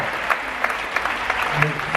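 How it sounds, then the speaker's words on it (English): Audience applause for a singer at a hypnotist's show on the cruise ship Celebrity Summit, a loud sustained clapping crowd with voices mixed in. "Give her a big round of applause."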